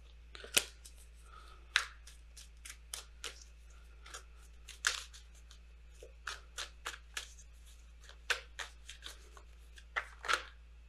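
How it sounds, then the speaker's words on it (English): Tarot cards are shuffled by hand in a series of soft, crisp riffles and flicks at an irregular pace, close and fairly quiet over a faint steady background hum. "If I can shuffle."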